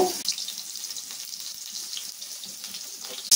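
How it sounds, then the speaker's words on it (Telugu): Onions frying in two spoons of hot oil in a pan give a steady close sizzle that holds evenly from start to finish. "ఆయిల్ బాగా వేడైన తర్వాత ఉల్లిపాయలు వేసుకోవాలి."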